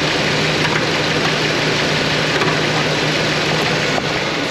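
A 1985 Chevrolet El Camino engine runs steadily nearby with a constant mechanical hum and rumble. No distinct throttle blips stand out, and nobody talks.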